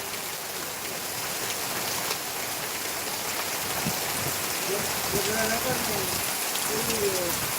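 Heavy village rain during a storm roars as a dense, steady wash of drops, loud and continuous, with a voice faintly audible beneath it near the end.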